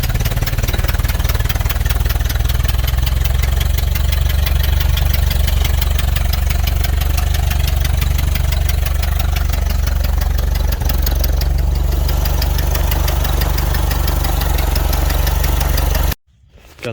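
1929 Ford Model A engine running at idle, a loud, close, steady low chugging that continues nearly throughout before cutting off abruptly near the end.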